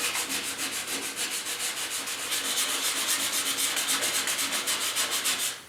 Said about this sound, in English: So I'm just sanding this glaze here with some 150 grit, and I'm really going light.